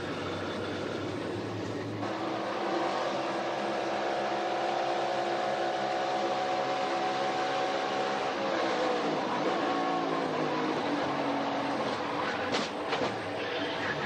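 A race car at the Daytona 500, heard from onboard with Noah Gragson, makes a loud continuous engine roar that holds steady with a shifting drone and ends in a few brief knocks.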